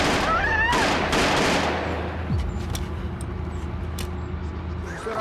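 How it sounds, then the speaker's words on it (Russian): Gunshots ring out in a tense crime-drama scene, a loud burst of rapid shots at the start fading into a few sharper isolated cracks and echoing noise, with a shouted voice among them. "Стреляю!"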